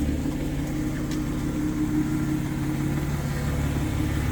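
A supercharged Audi A6 3.0T, a C7 with a ported supercharger running E40, idles steadily up close with a constant low hum and a faint whine on top, and no one talks.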